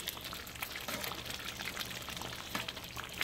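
Egusi soup made without egusi seeds simmers in a pot, a quiet bubbling with small, faint pops and crackles close by, with no voices.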